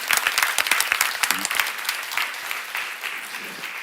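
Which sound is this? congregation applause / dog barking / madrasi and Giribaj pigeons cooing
congregation applause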